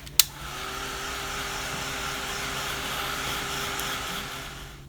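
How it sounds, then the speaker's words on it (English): A heat gun blows steadily on freshly glued sparkle tags, a continuous airy whoosh with a faint hum that runs almost unchanged throughout, preceded by a brief click as it switches on. "I'm going to hit it with the glue gun or the heat gun again, because before I cut them I want to make sure they're stable"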